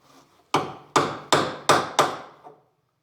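Hammer tapping a front suspension control arm bushing out of a car, five firm metallic knocks in a steady rhythm at close range, each ringing briefly before the next.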